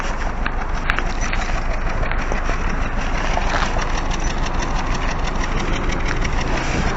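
A car's faulty exhaust rumbles steadily at idle, heard close from behind the vehicle, a continuous rough low drone with a faint irregular knocking texture and no break for the full stretch.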